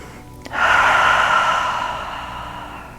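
A slow, audible breath during a legs-up-the-wall yoga pose, with eyes closed and arms by the sides, swelling after a brief click and then easing off as a long exhale, close and alone.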